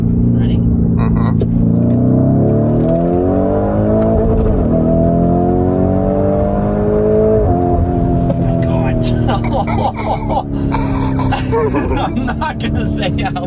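A 2021 Lamborghini Urus accelerates hard, its engine note rising in pitch through climbing revs, dipping briefly at gear changes, then swelling again, loud and close from inside the cabin, with people talking toward the end.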